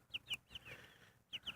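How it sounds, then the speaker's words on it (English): Backyard chickens under cover in a garden give a few short, faint clucks in two brief bursts, close by with quiet gaps between. "I guess all of our chickens are under there."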